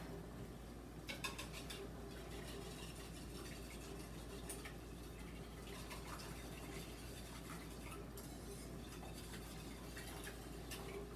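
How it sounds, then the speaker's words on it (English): Egg and vanilla custard for French toast being whisked in a bowl, a faint, continuous rapid ticking and scraping of the whisk against the sides, alone and fairly quiet. "what we're going to do is we're just going to whisk that all up"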